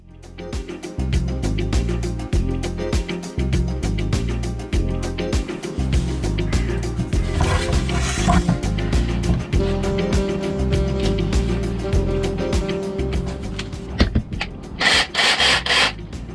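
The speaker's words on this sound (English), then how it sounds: "time to get a jigsaw and time to cut some metal" A jigsaw cutting through the metal roof of a Mercedes 310 Allrad camper van, a loud, close, continuous buzzing rasp with stuttering pulses as the blade bites, briefly easing near the end.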